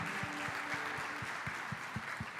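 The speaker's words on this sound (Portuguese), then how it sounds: "Você pode aplaudir a Jesus por essa palavra nessa noite?" A church congregation applauds at an evening service, with steady, dense clapping throughout. Low rhythmic thumps pulse underneath at a regular beat.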